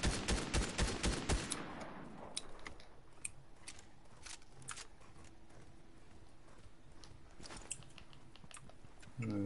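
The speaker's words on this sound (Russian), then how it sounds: "Там где-то стреляют" Fortnite gunfire from somewhere far off: a quick run of sharp reports opens the clip, then scattered, faint pops and clicks follow. A final burst of cracks comes near the end.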